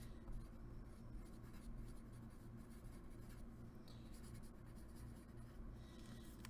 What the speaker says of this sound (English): I'm just going to write those in here